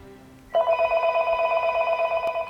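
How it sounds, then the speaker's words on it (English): A telephone rings with a steady, close electronic tone that sounds for about two seconds after a brief quiet start. "The phone rang."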